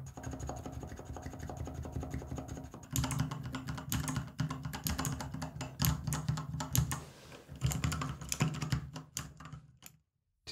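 Rapid clicky typing on mechanical keyboard switches, a close, steady clatter of crisp keystrokes that pauses briefly, resumes in fast irregular bursts, then stops.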